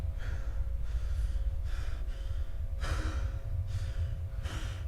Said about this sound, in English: And the heavy breathing starts.